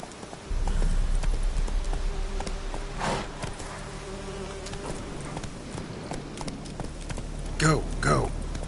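Hooves of the horse Roach galloping in a video game, a steady clip-clop under buzzing ambience, with a voice talking over it partway through.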